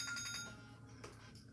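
A mobile phone rings nearby with a short, bright electronic ringtone, its repeated tones sounding alone before fading.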